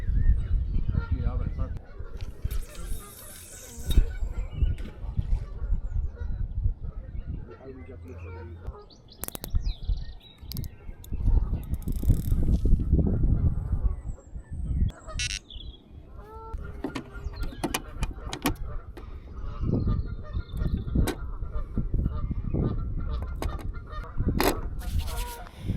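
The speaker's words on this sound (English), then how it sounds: "That goose is going to go right from the line." Goose honking near a carp fishing lake, scattered bird calls and honks over wind and handling noise, with people talking at times.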